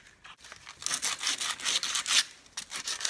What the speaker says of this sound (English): we are going to use 80 grit aluminum oxide, I guess. Better than nothing. Okay, we're going to clean up this area, And we're just going to take some of the rust off there.